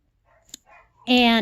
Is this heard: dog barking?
yes